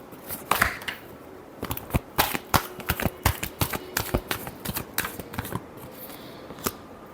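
A deck of tarot cards is shuffled by hand up close, with a quick run of sharp card slaps and riffles in an uneven rhythm. No speech.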